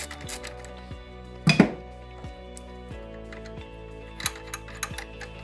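A belt tensioner adjuster on a Hyundai i30 engine being loosened with a ratchet, a run of close, sharp metallic clicks with a louder clank partway through.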